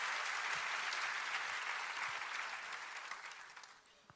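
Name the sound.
church congregation applauding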